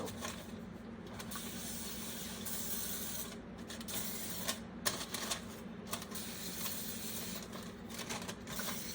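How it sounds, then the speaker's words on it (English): Olive oil spray spritzed onto parchment paper while shaping a chocolate banana nut sourdough, a steady close hiss with soft crinkly paper handling and faint clicks throughout. "glue them down with a little spritz of olive oil too"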